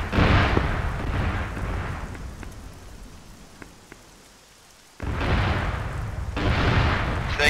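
Explosions and artillery fire in a military video game, heard as rolling, rumbling blasts that fade into a quiet stretch and then return, heavy and loud with no talk.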